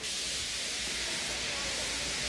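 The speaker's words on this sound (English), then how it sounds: "He just let off steam feebly." A steam locomotive feebly lets off steam, a steady soft hiss that runs unbroken from start to finish with no pauses or pulses.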